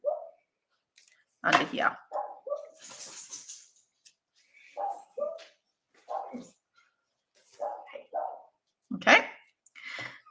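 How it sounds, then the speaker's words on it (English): Several dogs bark in short, scattered bursts indoors, loud and near, some yips mixed in, while someone talks over them. "now everybody's going to bark"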